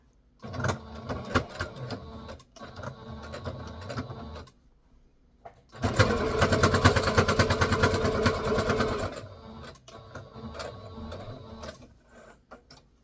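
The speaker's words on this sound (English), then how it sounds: "I'm just going to go ahead and do a straight stitch." Sewing machine running a straight stitch through fabric with shirring thread, in several bursts of steady mechanical whirring, with one long run in the middle between short back-stitching runs and pauses.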